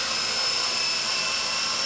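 A small E-Flite 120 SR fixed-pitch RC helicopter flies indoors, its electric rotor giving a steady, high-pitched whine with a constant buzzing hum and no talk over it.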